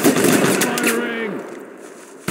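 Gunshots in the war game Mud and Blood, a couple of sharp cracks near the start over a layered, noisy battlefield bed with a voice briefly audible, fading into a quieter tail.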